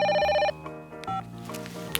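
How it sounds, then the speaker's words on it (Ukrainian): A bright electronic telephone ring trills for half a second, followed by softer tonal chimes and a faint voice, in a Peppa Pig cartoon. "Мама свинка телефонує."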